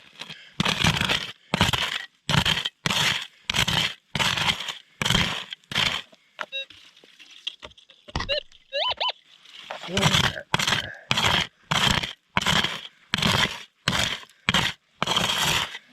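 A metal scoop scrapes loudly across bedrock while hunting gold nuggets in Arizona, in a steady series of harsh, rhythmic strokes, pausing briefly midway before resuming.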